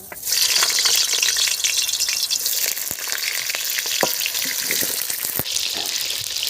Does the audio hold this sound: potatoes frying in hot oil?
yes